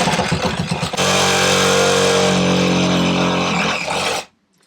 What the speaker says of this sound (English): Do you feel at all nervous cutting out the floor of our motorhome?